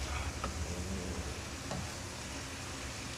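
Pork frying in a pan at home gives off a soft, steady sizzle that runs faintly and evenly throughout, with a few light stirring knocks and no voices.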